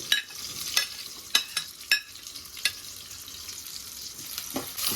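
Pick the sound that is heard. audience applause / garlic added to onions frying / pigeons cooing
garlic added to onions frying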